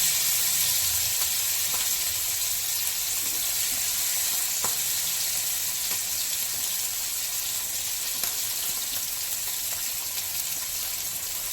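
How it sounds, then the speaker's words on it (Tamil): Masala-coated fish frying in oil on a tawa over a medium flame, a steady, loud, continuous sizzle and hiss with no talking. "இப்போது மசாலா போட்ட ஃபிஷ்ஷெல்லாம் வந்து இப்படி மீடியம் ஃப்ளேமில் வச்சுக்கோங்க"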